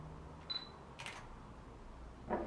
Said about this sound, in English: Oh, it's a different shutter sound though.